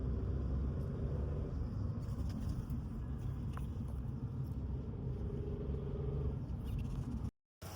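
A car drives fast on the way to a wedding, heard from inside as a steady low road rumble and engine drone with no voices, cutting out briefly near the end.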